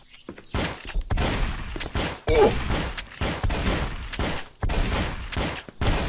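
Video game gunfire in Cube Life: Pixel Action Heroes, repeated loud bursts of rapid shots with brief gaps between volleys, close and punchy.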